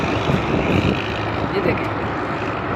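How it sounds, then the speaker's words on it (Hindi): A tractor engine rumbles steadily in a rural Pakistan village, a continuous mid-distance drone with someone talking over it. "ये ट्रैक्टर है"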